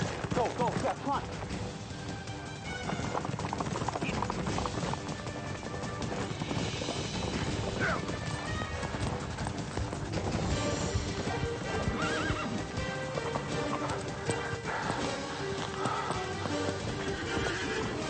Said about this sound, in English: Horses, horses, horses.